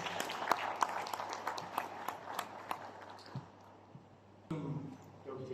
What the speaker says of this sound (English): Sous vos applaudissements toujours, mesdames et messieurs.